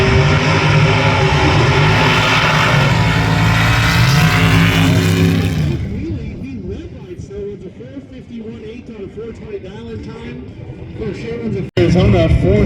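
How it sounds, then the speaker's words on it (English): Drag racing engines roar loudly at a sand drags, an Altered State dragster racing a small block Chevy powered Jeep, with a dense sustained blast that drops away after about six seconds to a distant drone under commentary, then a brief loud burst near the end. "the Altered State dragster Mike Collison is up against the FAFO small block Chevy powered Jeep of Jared"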